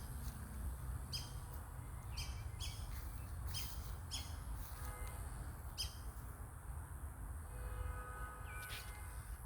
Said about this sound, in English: I have no idea what kind of bird that is.